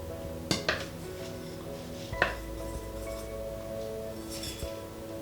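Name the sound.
oats dropped into a mixing bowl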